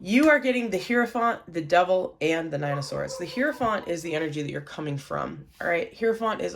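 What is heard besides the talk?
No distinct noise like a dog, phone or traffic.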